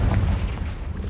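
A Confringo spell explosion in Hogwarts Legacy, a short, heavy, low boom that rumbles briefly and fades, loud and alone.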